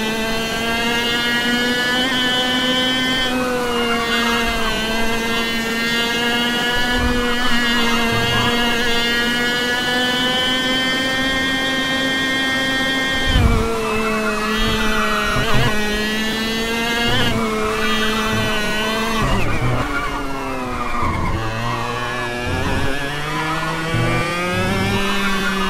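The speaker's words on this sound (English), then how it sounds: "You hear the engine bogging down as I was still applying a bit of brakes" A racing kart's engine in the sim game Automobilista drones steadily, its pitch sagging and bogging down as the brakes are applied, then recovering in uneven revs, loud and continuous with no talk.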